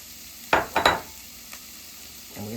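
Onions going into a hot pan to fry: a quick cluster of three close scraping, sizzling bursts over a quiet background hiss, with no talk.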